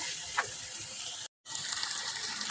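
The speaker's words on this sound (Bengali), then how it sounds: "এখন পরিমাণ করে ঝোল দিয়ে দিতে হবে" Broth poured into chicken curry simmering in a pan, a steady liquid gush that runs with a brief cut partway, with no voices.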